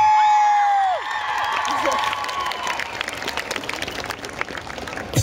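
A concert crowd at an outdoor show in Jarocin claps and cheers, a dense, fairly loud wash of applause with scattered whoops that continues after a brief tonal sound at the start fades.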